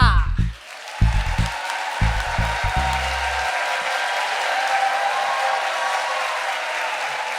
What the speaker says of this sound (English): a big round of applause for Orlando Rivera.